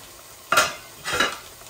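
Two short clattering contacts of a lid set onto a cooking pot of chicken and cabbage, about half a second apart, close and fairly clear with no talking.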